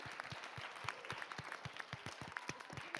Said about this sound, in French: tout le bureau de Rugisson mérite un tonnerre d'applaudissements